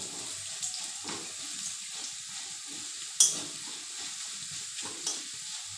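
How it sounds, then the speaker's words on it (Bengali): Mung dal fries in a pan with onion and garlic, a soft continuous sizzle under occasional scrapes of stirring and one sharper clack. "এবার একটু মুগের ডাল, অল্প, আধা মুঠ, এক মুঠো না, আধা মুঠ খানি, আধা মুঠেরও কম মুগের ডাল দিয়ে দিলাম।"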